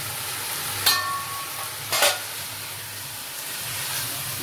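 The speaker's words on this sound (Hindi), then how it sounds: "हम थोड़ा लिड लगाकर इसको थोड़ा फ्राई करते हैं।" Chicken for a South Indian chicken stew frying in a lidded pan, a steady soft sizzle and hiss throughout with two brief louder clatters of stirring near the start, no voices.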